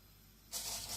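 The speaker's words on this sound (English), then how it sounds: "Now the ghee is melted and hot enough. I'm just throwing in the whole spices" Whole spices tossed into hot melted ghee for cumin rice burst into a sudden bright sizzle halfway through, a faint, quiet hiss that stays steady to the end, with no talk.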